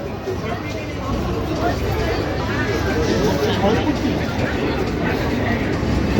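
Inside a second sitting coach of the Ispat Express leaving Howrah, a steady low rumble of the moving train fills the carriage, with passenger chatter murmuring throughout.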